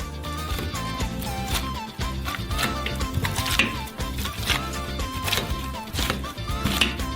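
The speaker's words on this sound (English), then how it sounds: "with the help of a potato masher, we knead the potatoes" Boiled potatoes are mashed and kneaded with a potato masher, giving repeated soft thumps and squelchy knocks at an uneven rhythm, close by, over background music.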